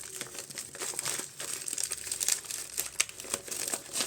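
A shipped parcel being opened on a balcony, with close, fairly quiet crinkling and rustling of packaging in uneven bursts and a few sharper crackles.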